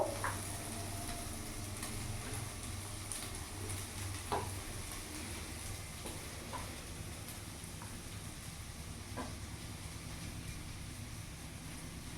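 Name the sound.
potato samosa filling frying and being stirred in pan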